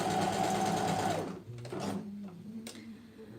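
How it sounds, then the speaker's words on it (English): A sewing machine stitches fabric and elastic together, running loud and steady at close range for about a second before stopping, followed by softer handling clicks and rustles. "I place my fabric in the middle of the elastic and I start to sew for like 1-2 centimeters"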